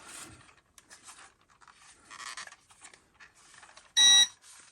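An Eachine 520S drone's calibration beep sounds once, sharp, loud and brief, after a stretch of quiet whirring and faint mechanical noise.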